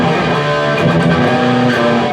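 An electric guitar riff played through a Marshall JCM 800 pedal with a booster engaged, dense sustained overdriven chords ringing loud and steady with no talking.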